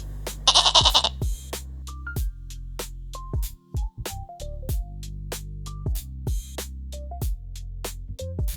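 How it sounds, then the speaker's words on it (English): A goat bleats once, a loud, close, wavering cry near the start, set over a steady plucked and tinkling musical backing that runs throughout. "In English, we say goat."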